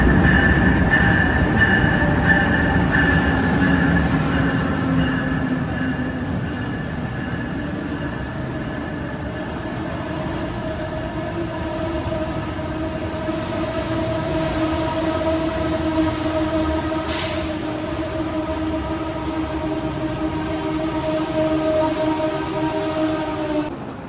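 An Amtrak train pulling into a large station on the New Jersey–Boston route, a loud sustained rumble with humming tones and faint wheel squeal that rises gradually; no talking.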